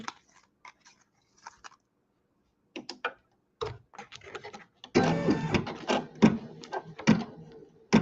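A home embroidery sewing machine stitching out a design, heard as close, irregular bursts of rapid mechanical clatter that start sparse and grow denser and louder, with no talking.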